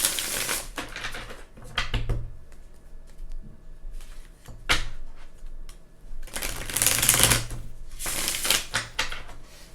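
Loud shuffling of a Halloween-themed tarot deck, with several rough bursts of riffling and card slaps that come in clusters separated by short pauses. No one speaks.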